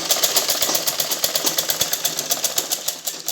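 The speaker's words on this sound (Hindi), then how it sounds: "तो इसको 2 बार मशीन को चलाएंगे ताकि ये मजबूत रहे, खुले नहीं धागा।" A sewing machine stitches a 42-inch blouse, running steadily in a fast, even rhythm of needle strokes with a mechanical whir, close and continuous without talk.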